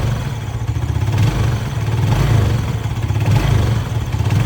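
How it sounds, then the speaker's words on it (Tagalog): A fuel-injected motorcycle engine runs with no load, a loud steady low rumble close by with slight rises and falls in level, no talking over it. "Pag tumakbo na yung motor,"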